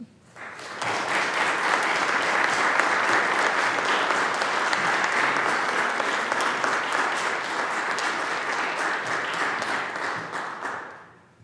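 An audience applauds for a memorial scholarship recipient at an awards ceremony, a full room clapping steadily for about ten seconds before fading out.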